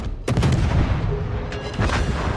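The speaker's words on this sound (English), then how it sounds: "it only takes one salvo to kill him off" A destroyer's gun salvo goes off in the naval video game World of Warships, with two sharp booming blasts close together and a rumbling tail, no speech.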